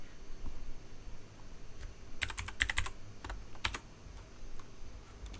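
Fingers tap a computer keyboard in short clattering bursts with pauses between them, fairly close, alongside a soft room hum and no speech.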